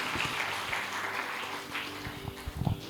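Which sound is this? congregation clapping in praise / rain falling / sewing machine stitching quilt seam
congregation clapping in praise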